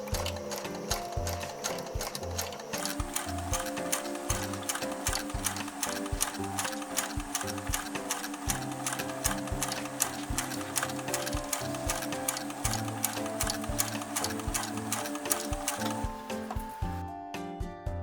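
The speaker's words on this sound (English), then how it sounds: "Arrange the cords neatly and start sewing." Sewing machine stitching cords under a FEIYUE cording foot, a steady fast mechanical whir and needle clatter running continuously, close and clear, ending with a brief stop.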